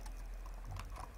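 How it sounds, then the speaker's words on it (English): Keystrokes on a computer keyboard while entering text in Photoshop, a short run of light, irregular clicks close by over a steady low background hum. "We'll type in"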